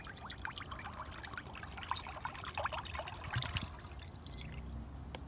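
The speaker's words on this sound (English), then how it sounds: "we're gonna start by filling our pan up with 2 cups of water" Two cups of water pour into a backpacking cooking pan in a continuous, gurgling trickle, close and fairly quiet, with no talking.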